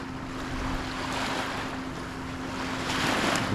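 Surf washing onto Tanjung Rhu beach on the north side of Langkawi, Malaysia, a steady near roar of breaking waves with swells rising toward the end, mixed with wind noise and a faint steady hum.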